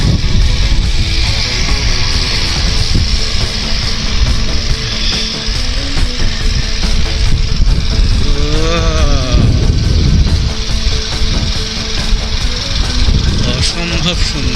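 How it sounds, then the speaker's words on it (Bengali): Motorcycle engines drone steadily while a group of bikes rides uphill on a mountain road during a Holi trip into the clouds, a continuous loud roar with wind, with a voice exclaiming at times over it. "সব কটা বাইক যাচ্ছে পার্বতের উপর"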